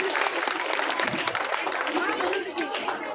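A crowd at a children's school event gives loud applause for the children's parents and teachers, dense clapping with voices mixed in that eases slightly near the end.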